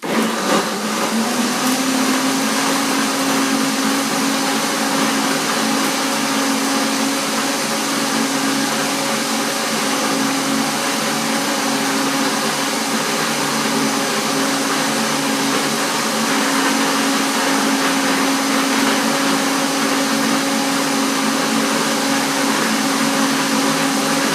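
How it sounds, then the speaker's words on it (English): A blender whirs loudly and steadily as it blends peanuts with water for peanut milk, its motor pitch rising slightly at the start and then holding an even drone for over twenty seconds. "So here, I will blend it."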